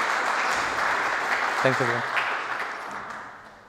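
An audience at a firmware conference applauds for a speaker, a steady mass of clapping that slowly fades, while a voice briefly speaks over it partway through.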